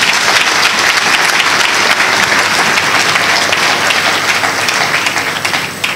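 Loud, dense applause from a large audience at a public event, sustained evenly for several seconds before easing slightly at the end.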